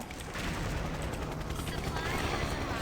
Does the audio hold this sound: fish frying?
no